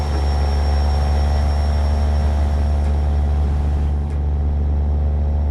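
CAT 3176A diesel truck engine in a trucking simulator, heard from inside the cab with windows up, a steady low rumble holding near idle RPM with constant loudness and no talk.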